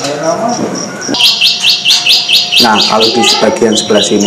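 Young white-rumped shama (murai batu) chicks, kept at a bird dealer's, chirp in quick repeated high tweets that grow denser partway through, with a person talking underneath at the start.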